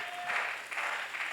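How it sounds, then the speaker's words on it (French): Church congregation cheering and applauding, a dense wash of steady clapping with scattered cries through the whole moment, moderately loud and filling the room without letup. "Est-ce que tu peux manifester ta joie par des acclamations, des cris de joie?"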